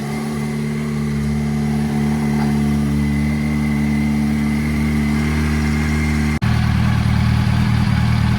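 Steady rumble of an idling 2005 Yamaha R1 motorcycle engine, close and loud, with a brief dip before the engine note shifts slightly lower and fuller after coolant is topped up.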